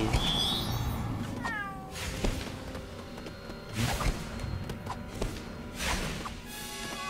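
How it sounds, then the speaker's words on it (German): A cat meows several times in the LEGO Harry Potter video game, short rising and falling cries spaced across the scene, mixed with game whooshes and soft impacts. "Los, Kätzchen!"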